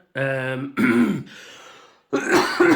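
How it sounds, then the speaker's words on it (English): A couple of harsh coughs and throat clearing from a person close by, with a brief breathy pause between them. "I've got one of those tickly coughs I can't quite get rid of"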